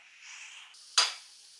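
Mango puttu tipped out onto a plate lands with a single short thud and clatter, preceded by a soft hiss of steam, heard alone.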